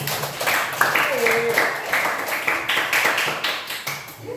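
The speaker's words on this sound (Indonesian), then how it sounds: "Kasih tepuk tangan buat kelompok 3." A classroom of students claps for group 3, a quick patter of separate claps going on throughout, with chattering voices over it.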